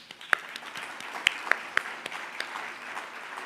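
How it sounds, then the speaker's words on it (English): Scattered, quiet clapping at a community center's fundraising auction night, a few sharp individual claps standing out over a soft, sparse patter from the crowd. "I think that deserves a round of applause"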